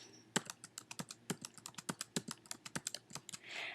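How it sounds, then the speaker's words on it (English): Rapid keystrokes on a computer keyboard as a password is typed, a close, crisp run of about twenty clicks with uneven rhythm, ending in a soft rustle, with no talking. "I'm going to put in a password."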